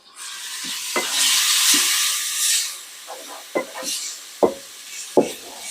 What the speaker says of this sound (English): We're going to add our minced garlic.